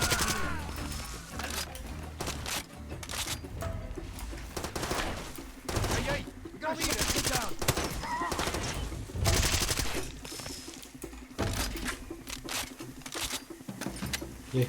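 An MP5 submachine gun firing in the Far Cry 2 video game, with the weapon worn and close to jamming; it sounds as rapid, loud bursts of gunfire with brief gaps, and someone speaks between the volleys.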